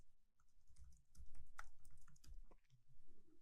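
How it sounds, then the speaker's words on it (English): Someone types a password on a computer keyboard, producing a quick, irregular run of soft, close key clicks over a few seconds in a quiet room. "in this box, type a password for the admin user."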